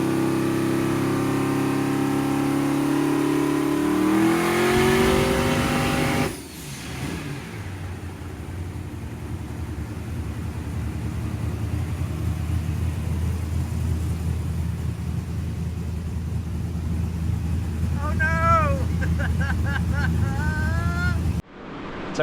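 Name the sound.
big block twin-turbo engine revving at full throttle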